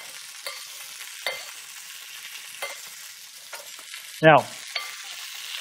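Nopales and a spicy, smoky dressing being stirred in a pan make a soft low sizzle with scattered utensil scrapes and one louder clatter, and someone speaks briefly.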